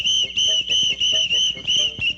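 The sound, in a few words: whistle blown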